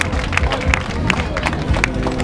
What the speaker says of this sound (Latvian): Augšu ar aplausiem sagaidām